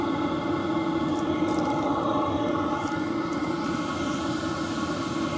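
A BougeRV diesel heater runs at level 1 with a steady, even low hum and a faint fan whoosh, continuous and unchanging, with no talk.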